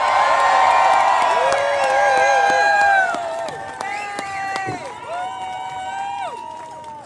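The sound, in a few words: rally crowd cheering and applauding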